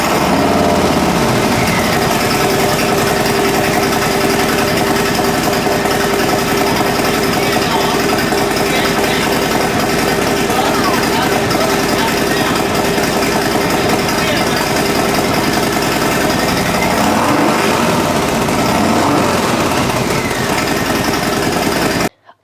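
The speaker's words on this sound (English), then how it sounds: "when we finally fired it up after installing the new exhaust. It sounded really good, louder, and really, really good." A Harley-Davidson motorcycle fitted with Tab Performance slip-on exhausts and Zombie Baffles runs loud and close, a steady, throaty engine roar that holds without letup for over twenty seconds.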